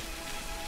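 Rain in the Tomb Raider video game, a brief burst of dense, even hiss of drops hitting surfaces with no talk over it.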